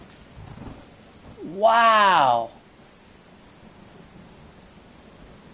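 Heavy rain with thunder in the Watch Dogs video game on PS4, a steady dense hiss of downpour throughout, with a man briefly exclaiming over it.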